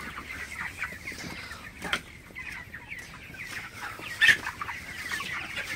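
Broiler chickens suffering from heat stress and chill cluck softly and intermittently close by, with scattered low clucks and brief rustling in a quiet setting.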